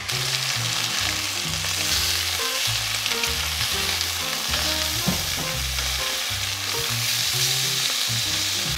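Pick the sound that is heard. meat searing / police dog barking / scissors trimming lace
meat searing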